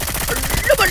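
Rapid video game gunfire in a shooting match, bursts of shots rattling under excited talk from players, fairly loud and continuous for under a second.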